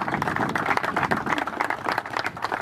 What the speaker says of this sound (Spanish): se merecen un aplauso también para ellos.